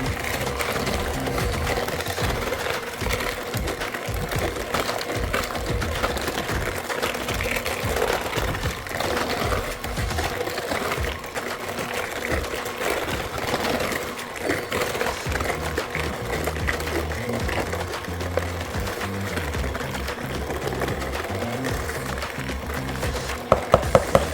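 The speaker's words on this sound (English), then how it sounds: "Mix this up very good." A mixer whirs steadily, blending very berry bread pudding batter made with 2% milk, a continuous motor drone with rough churning texture that runs throughout and stops with a few clicks at the end.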